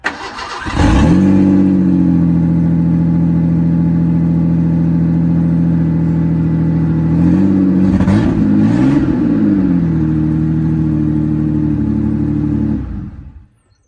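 A 1988 Ford Bronco II with a new glass pack exhaust starts up and idles loudly and steadily for about twelve seconds, with a short rev in the middle before it shuts off.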